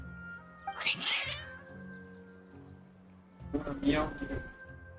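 Two bursts of agitated cat meowing from the video game Genshin Impact, separated by a short pause, heard over soft background music.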